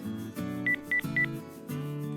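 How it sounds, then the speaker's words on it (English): A toy fairy phone plays three short electronic dialing tones in quick succession. Between them, a louder droning musical tone starts and stops. "I need to call my friend with my fairy phone."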